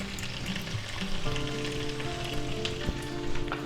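Green and red peppers, onions and chopped ham sizzle steadily in a hot pan, a continuous close frying hiss with light crackles and no talking.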